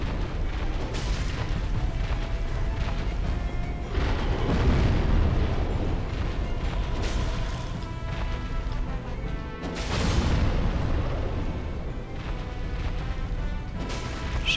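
In Dark Souls, the Demon Firesage's huge weapon slams into the ground, and heavy booming impacts land at intervals over a continuous rumbling game din.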